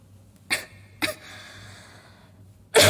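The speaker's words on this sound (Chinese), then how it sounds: "我咳了个那么响的咳嗽" Two small breathy catches, then one loud, sharp cough bursting out close to the microphone right at the end in a quiet indoor room.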